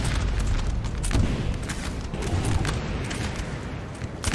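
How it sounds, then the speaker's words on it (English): Canister shot artillery fire in Napoleon Total War, heard as a dense, loud barrage of overlapping booms and cracking bursts that continues without a pause and with no talking. "That canister is just going through the house, I think, and actually killing troops on the other side."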